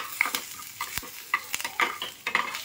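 Curry leaves crackling and spitting in hot ghee for a tempering, with sharp irregular pops and bursts of sizzle close by, plus a brief clink of a stirring spoon.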